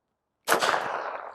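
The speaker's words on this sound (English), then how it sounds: "We're going to start out with some 380 coming out of the Beretta 30X Cheetah." A single sharp gunshot from a Beretta 30X Cheetah pistol firing 90-grain .380 FMJ rounds at a clear ballistics dummy, with a loud crack that rings out and decays after a moment of silence.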